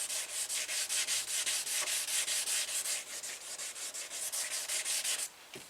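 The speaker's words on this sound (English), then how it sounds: "I'm actually going to use this flex block. And I'm just going to sand the clear down." Clear coat over vinyl stripes on a Candy Apple Red Monte Carlo SS is sanded by hand with a flex block, making rhythmic back-and-forth rasping strokes, about four per second, steady and close, then stopping near the end.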